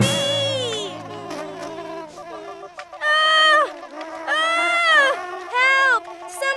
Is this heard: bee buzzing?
yes